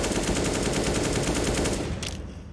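Sustained, dense automatic gunfire in Counter-Strike: Global Offensive during a PGL Major grand final match on the Ancient map, shots wallbanging through cover toward a corner, loud and continuous before easing off near the end.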